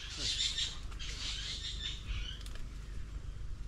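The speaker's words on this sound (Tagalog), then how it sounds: "ibon" Birds chirp in quick, high twittering bursts in an outdoor setting where nipa is being gathered, moderately close over faint background noise.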